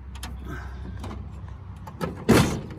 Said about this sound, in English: Maybe the drawer will come out now.